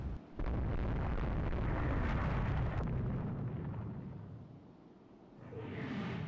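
Torpedo hit explosion on a warship in the naval game Rule the Waves 3: a loud, sudden blast that holds as a heavy rumbling roar, dips, then swells again near the end.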